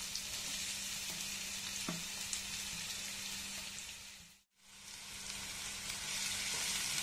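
Sliced onions and green chillies sauté in hot oil for an egg gravy, giving a steady, faint, close sizzle that briefly dips to near silence before resuming.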